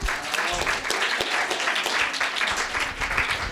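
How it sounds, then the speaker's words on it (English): Audience at a New York University film presentation applauding an Italian director, a steady, moderately distant patter of many hands clapping throughout. "Paolo Sorrentino deserves an applause from this audience"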